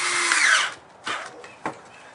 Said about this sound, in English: using your cordless drill with a 5/16 inch nut driver,